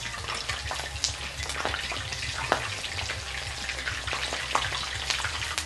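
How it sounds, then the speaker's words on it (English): Taquitos frying two or three at a time in hot oil, giving a steady close crackling sizzle with small pops throughout, and no talk. "It's finally time to start frying up our taquitos. Let's get them in the oil."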